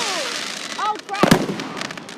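Canada Day fireworks and flares bursting in the sky over McAdam, with sharp cracking pops and a loud cluster of bangs near the middle, under whistling and scattered talk.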